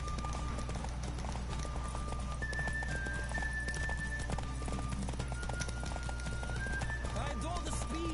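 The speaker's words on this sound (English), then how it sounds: "Don't spare the horse." Horse hooves galloping in The Witcher 3, a steady clip-clop run under game music and tones, with someone talking excitedly over it.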